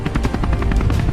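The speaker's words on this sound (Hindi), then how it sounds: "यहाँ पर अब इंडियन मिलिट्री का हेलीकॉप्टर भी आ जाता है।" Indian military helicopter in an animated robot battle, heard as a loud, steady rotor chop with rhythmic beating pulses throughout the short stretch, with no voices.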